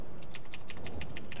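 Rapid typing on a computer keyboard during a World of Warcraft fight, about eight quick crisp key clicks in an even burst, close and clear over low background game noise.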